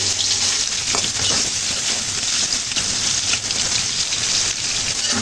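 New potatoes frying in a pan with oil, a steady loud sizzle and crackle that holds evenly from start to finish, with no voices over it.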